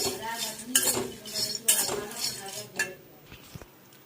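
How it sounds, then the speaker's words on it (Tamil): Peanuts dry roasting in a pan, stirred with a utensil that scrapes and clinks against the metal in irregular bursts, with quieter stretches between and a faint rattle near the end. "வேர்க்கடலையை வறுக்கிறோம்."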